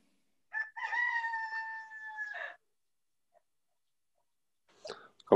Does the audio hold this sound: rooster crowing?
yes